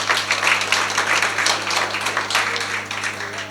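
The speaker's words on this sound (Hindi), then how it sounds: "एक बार उनके लिए तालियां बजा दीजिए।" Steady crowd applause fills the whole stretch, a dense continuous patter of many hands clapping at an award ceremony honouring a literary prize winner, with no pauses.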